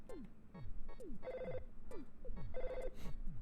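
A telephone rings in a video game, repeated synthesized bell trills in a steady rhythm over a looping electronic background, close and clear with no talking.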